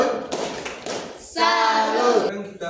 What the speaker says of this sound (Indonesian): Oke, tepuk salut untuk kita semua.